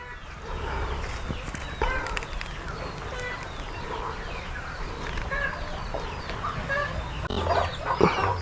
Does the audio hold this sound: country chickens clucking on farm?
yes